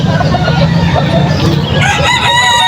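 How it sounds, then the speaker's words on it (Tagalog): Chickens cluck and a rooster crows loudly nearby at a chicken market in Calumpit, Bulacan, mixed with busy background noise and a bit of talking. "Mga manok na to."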